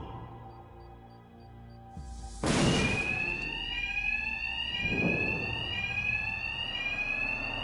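A loud electronic alarm kicks in abruptly and keeps blaring with a steady pulsing tone, following a low rumbling bang, in a Batman video game heist scene.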